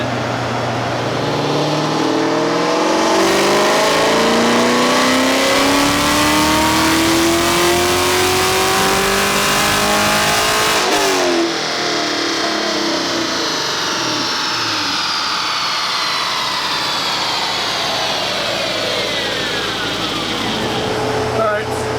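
A Chevrolet Corvette Z06 running a pump-gas dyno pull, engine revving hard and climbing steadily in pitch, dropping off briefly, then winding up again through a second long sweep, loud and continuous throughout.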